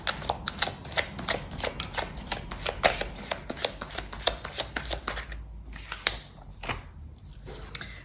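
Tea Leaf oracle cards being shuffled by hand, a rapid run of crisp close riffling snaps that slows into a few separate card flicks near the end, with no talking.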